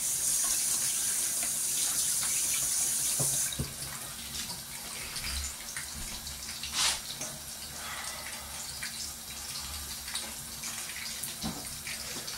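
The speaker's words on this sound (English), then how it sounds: "Just wash my hands." A running tap while hands are washed, a loud gushing stream of water for the first few seconds, then softer splashing, rubbing and dripping sounds nearby with no talk.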